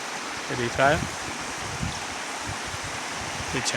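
Stream water rushing steadily near a Mahadev temple in monsoon country, a continuous broadband wash filling the whole clip, close and moderately loud, with someone speaking briefly over it.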